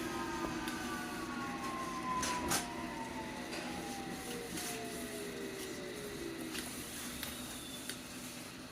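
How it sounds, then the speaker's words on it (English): A London Underground Hammersmith & City line train pulls into Stepney Green station, its drive whine gliding down in pitch as it slows, with brake squeals and clatter over a steady rumble. "Now we're pulling into the station finally."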